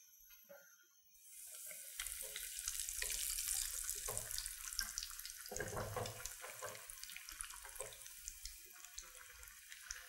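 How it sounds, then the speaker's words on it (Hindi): Potato cheese cutlets are lowered into hot oil and deep fry, a loud continuous sizzle and bubbling starting after a quiet second and carrying on steadily, close and alone. "अब हम इसको डीप फ्राई करेंगे।"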